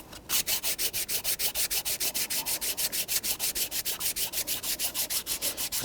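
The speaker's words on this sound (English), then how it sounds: "I'll get my sanding block back again." Quick, steady back-and-forth strokes of a sanding block on aluminum by a 2014-2019 Toyota Corolla 1.8L engine's knock sensor, a rapid even rasp repeating many times, close up and with no talking.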